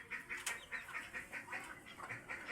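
Ducks quacking in repeated short bursts, a steady rhythm of calls at moderate distance with faint background noise and no talking.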